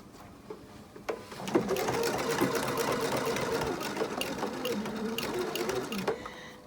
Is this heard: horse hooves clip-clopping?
no